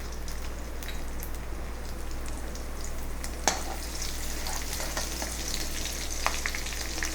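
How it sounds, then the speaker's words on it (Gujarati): Finely chopped green chillies fry in a crackling mustard-seed and cumin tempering. A steady, dense sizzle runs throughout over a low hum, with occasional louder pops and no talking. "રાઈ જીરુંને તતડે પછી હવે આપણે તેમાં 2 નંગ તીખા ઝીણા સમારેલા મરચાં નાખીશું."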